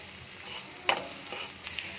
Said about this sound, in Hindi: अब इन सब चीज़ों को हम अच्छी तरीके से सौते कर लेंगे